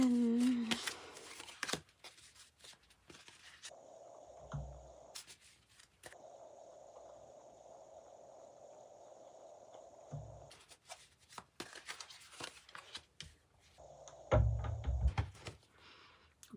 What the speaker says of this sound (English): This is a hard deck to shuffle.